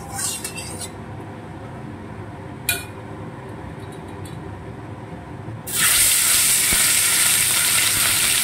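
Katla fish pieces fry in hot oil in a home kitchen. A few faint clinks come first, then a loud, steady sizzle surges up and continues close by without any talking.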